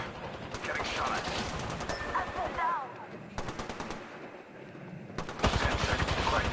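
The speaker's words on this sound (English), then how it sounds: "Getting shot at." Bursts of rapid automatic gunfire in a first-person shooter game, with three separate sustained volleys of fast, rattling shots and game character voices and effects heard between them.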